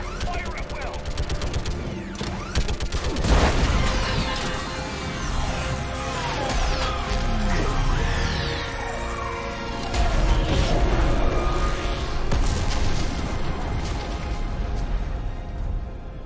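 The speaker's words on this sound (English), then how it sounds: "I need an orbital strike. Clear. Fire at will." Heavy artillery-style orbital strike in the video game Mass Effect 3, with loud booming blasts and dense gunfire crackle running throughout, a big impact near the start, while voices talk over the battle.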